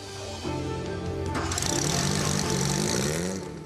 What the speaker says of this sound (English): But the throaty-sounding inline 4-cylinder engine has to work pretty hard.